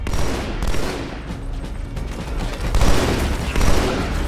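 Dense, continuous gunfire from Halo 2 Anniversary on Xbox One X, with rapid overlapping shots and booming bursts filling the whole stretch, loud and close with no talk.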